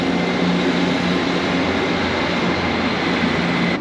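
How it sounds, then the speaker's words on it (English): A GWR train passing on an elevated railway line above the river in Bath, a steady, loud, broadband rumble that holds for several seconds with no talking. "and there goes a train"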